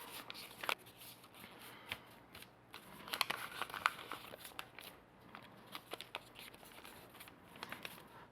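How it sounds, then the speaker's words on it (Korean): A large sheet of paper is crumpled by hand in an art class demonstration, giving faint, irregular crinkling and crackling rustles at close range. "잘 구기기가 어려운 친구들은 너무 작게 구기지 말고 크게 작업을 해줍니다."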